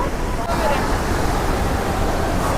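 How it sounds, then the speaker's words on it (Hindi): Loud, steady rushing of a fast, high-pressure mountain stream beside a rough trail on the Manimahesh Kailash route, close and continuous with no break across the moment. "बहुत ही शोर है पानी का"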